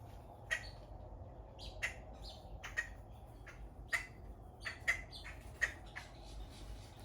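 Faint mockingbirds and blackbirds squawk and chirp in short, scattered calls over a low background rumble, heard from a distance outdoors.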